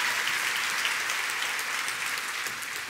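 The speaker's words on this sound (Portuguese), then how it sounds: "Pode dar uma salva de palmas" A congregation at a church gathering gives a round of applause: a continuous, even roar of many people clapping, heard from some distance and fairly quiet, without speech over it.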